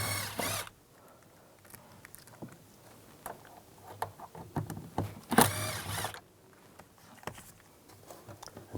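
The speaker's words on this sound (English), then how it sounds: "I'm going to take these two screws out using a T25." A power tool whirs in two short bursts, once at the start and again near the middle, as it backs out two T25 screws from interior trim on a 1999-2005 Volkswagen Jetta, with faint clicks and handling noises between.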